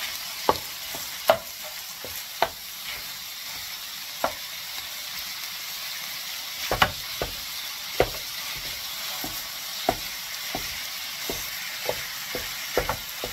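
Turkey sausage sizzles in oil in a pan for dirty rice, a steady close hiss broken by regular scrapes and clacks of stirring, with no talk.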